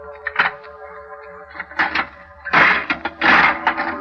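An old door, its rusty lock just smashed, is opened in a radio drama, with scattered creaks, clunks and rattles building into louder scraping bursts near the end, close and alone over a faint low drone.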